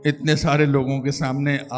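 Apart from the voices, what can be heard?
None of the usual background noises is heard.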